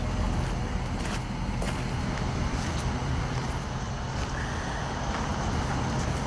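A truck engine idling outdoors, a steady low rumble with faint wind noise throughout and no clear speech.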